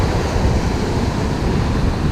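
Heavy surf pounds Macaroni Beach on Mustique in a dense, rumbling wash of breaking waves, with wind rushing across the microphone and nothing else heard.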